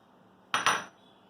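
Boiled peanuts tipped into a salad bowl make a short double clatter of small hard pieces landing, two quick close bursts, with no talking.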